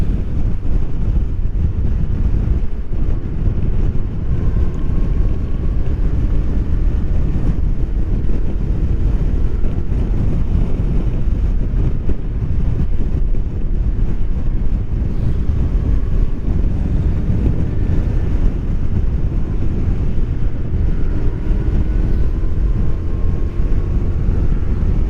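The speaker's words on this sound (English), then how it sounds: "It's pretty windy." Strong, steady easterly wind buffeting the microphone in a continuous roar, with a low rumble underneath and no voices.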